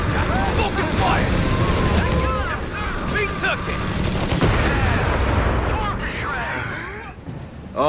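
Heavy machine gun fire and other battle noise rumble through a World War II street fight in Company of Heroes 3, a dense, loud barrage with bursts and booms under shouted soldier voices.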